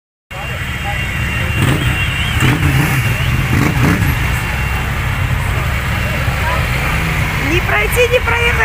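Cars pass in heavy street traffic in Mersin, a continuous loud engine roar with vehicles rolling by close and steady throughout.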